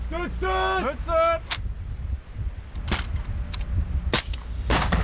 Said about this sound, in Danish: De første skud lyder